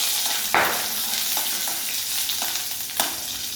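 Dried red chillies and curry leaves crackle in hot tempering oil for arai keerai kadaiyal, a mashed spinach dish. A continuous close sizzle carries a few sharp pops and light stirring knocks, with no voices.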